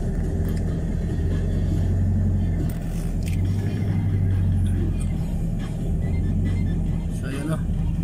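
Cars stand queued on a road in Kapatagan, Davao del Sur, a loud steady engine rumble with low idling hum and occasional scrapes, while someone talks over it.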